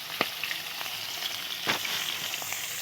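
Rui fish pieces fry in hot oil with a steady, close sizzle, broken by a few sharp pops and spatters.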